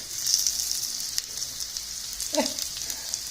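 Pieces of chicken browning in a pan for a French chicken chasseur, giving off a steady, soft sizzle. A brief clatter from a stir or a turn of the pieces breaks in partway through.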